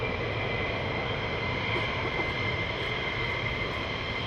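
Military jets taxi toward the runway at RAF Lakenheath, a steady, moderately loud engine roar with a faint high whine holding constant throughout, no voices.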